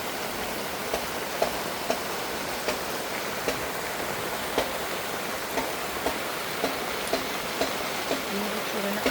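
Rain falls steadily on a small farm, heard from inside a kubo hut: a continuous broad hiss with faint, regularly spaced drips or taps running through it, and no voices.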